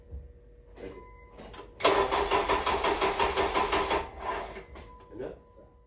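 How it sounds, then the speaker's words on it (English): A Honda CR-V fitted with a swapped engine cranks for a couple of seconds without catching, a loud steady whirring starter burst with a few quieter clicks and short voice sounds before and after. "the engine cranks, but it wouldn't start"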